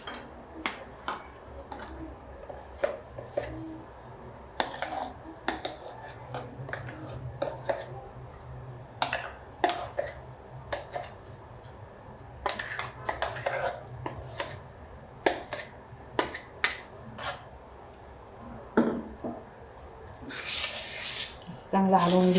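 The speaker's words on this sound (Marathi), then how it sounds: "चांगलं हलवून घ्यायचं. फेटून घ्यायचं." Dosa batter of ground dal whisked by hand in a pot, producing irregular soft squishy ticks and splats in quick succession, fairly close, with a faint background hum.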